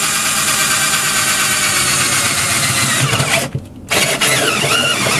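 A power drill whines steadily and loudly, grinding through a fridge, with a brief pause near the end before the motor spins up again.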